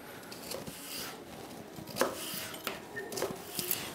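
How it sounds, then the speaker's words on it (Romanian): A knife cutting parsnip for a mushroom soup, with several scattered taps and knocks on a board, a couple sharper than the rest, fairly quiet and close, with no talk. "să tăiem păstărnacul"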